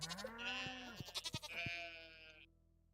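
A single sheep in the farming game Stardew Valley gives one clear, wavering bleat lasting a couple of seconds, close and alone against a quiet background.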